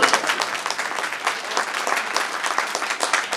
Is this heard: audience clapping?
yes